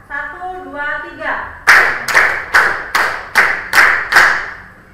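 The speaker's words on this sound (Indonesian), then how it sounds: "Kita tepuk tangan 7 kali untuk menyepakati" A classroom of students claps hands together seven times in sharp, evenly spaced unison beats, after a teacher's voice counts off at the start.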